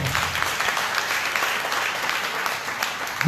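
Congregation applauding during a church worship service, a steady broad wash of clapping that fills the whole span, fairly loud and close, with no talk over it.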